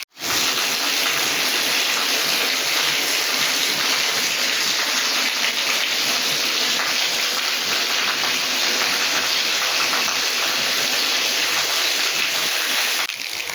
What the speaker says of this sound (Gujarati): અમારા વાંકાનેરમાં જો આવો વરસાદ પડી રહ્યો છે.